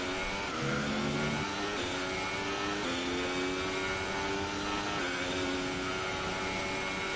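A Sauber Formula 1 car screams around the track in F1 2018, its high-revving engine loud and continuous, pitch climbing through gears with brief dips at upshifts.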